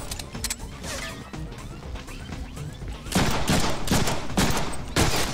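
Gunfire in the Deadpool video game, scattered shots at first, then louder rapid bursts of repeated cracks in the second half, close and punchy, mixed with background game noise.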